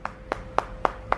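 A child claps at a little home cat show: five crisp, evenly spaced hand claps, close and fairly loud, with no talking over them.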